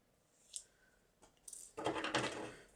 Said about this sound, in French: Je coupe les petits fils qui dépassent.